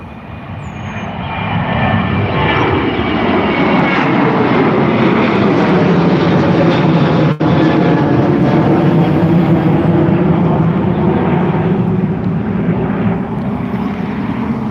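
A Ryanair Boeing 737-800 takes off from runway 10 right at Dublin Airport, its jet engines roaring loud and steady throughout with a broad sweeping rumble.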